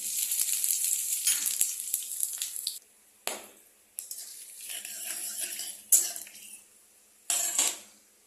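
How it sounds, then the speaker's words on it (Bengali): Bay leaf, dried chili and panch phoron hitting hot oil crackle into a loud close sizzle, which drops away in bursts between clinks of a utensil against the pan. No one speaks. "তো আমি এখানে এই ফোড়নে দেওয়ার জন্য এই তেজপাতা, শুকনো লঙ্কা আর 5 ফোড়নটা আমি তেলে দিয়ে দেবো"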